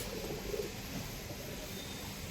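Pigeons cooing in a pigeon house, soft low coos repeating early on against a faint steady background hiss, fairly quiet and close.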